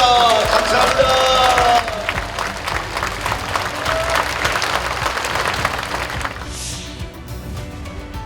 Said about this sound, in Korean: 다시 한번 여러분이 화면을 바라보시고 고마운 박수를 해드리겠습니다.